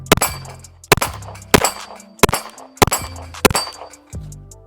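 Pistol shots from a P320 in a Strike Industries SMC Bravo chassis ring off a steel plate rack, six or so loud, evenly spaced bangs each followed by a metallic clang, close and with no talk.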